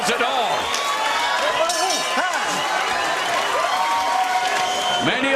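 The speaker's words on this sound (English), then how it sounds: "Many of the fans in attendance on their feet showing their approbation for another terrific fight." Boxing arena crowd at a Jerwin Ancajas vs Fernando Martinez rematch applauding and cheering steadily after the final round, a dense continuous roar of clapping with scattered whoops and voices throughout.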